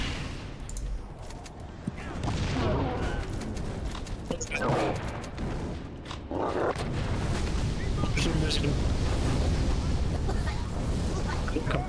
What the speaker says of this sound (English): it doesn't stop shooting